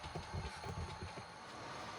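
Model railroad train running over track on a layout, a steady low rumble with rhythmic rail clicks and some wheel noise throughout, fairly close and continuous, with no talk.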